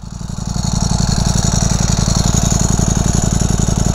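A Ducati Panigale V4R motorcycle engine grows louder as it approaches, a rapid, throbbing low pulse that holds strong and steady once it arrives.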